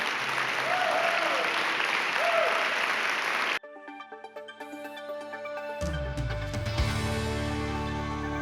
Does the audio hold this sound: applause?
yes